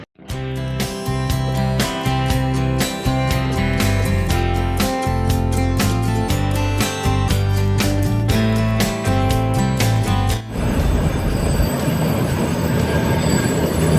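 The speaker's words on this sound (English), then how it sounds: "This is a train, the Mongolian train, towards the Russian border." A Mongolian passenger train running from Ulaanbaatar toward the Russian border gives a loud, steady rumble with rhythmic clicks and rattling across the clip, and the tone turns rougher and noisier near the end.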